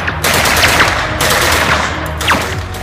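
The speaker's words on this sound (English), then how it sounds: "They fire, but Zack's armor deflects them all" SWAT team gunfire in an action audio drama: loud, dense bursts of rapid automatic shots in three sustained volleys, close and overwhelming, with no voices over it.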